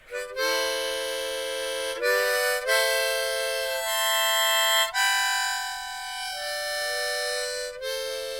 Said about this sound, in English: This is a harmonica in different key.